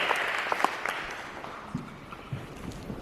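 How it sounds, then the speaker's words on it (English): Applause for a speaker at a conference tapers off, starting as a moderate patter of clapping and thinning to a few scattered, fading claps. "Give one more round of applause for Cassie."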